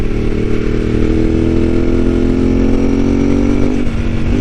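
A Ducati 748R motorcycle with a slipper clutch pulls hard to overtake a Mercedes car on the road, its engine a loud, close, continuous roar that rises steadily in pitch under rushing wind.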